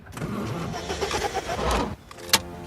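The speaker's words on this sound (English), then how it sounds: "A woman drives by in a convertible, catching the tire's attention." A convertible car passes by in the film Rubber, its engine a steady mid-range rumble that swells toward the middle and then fades, with a brief sharp click near the end.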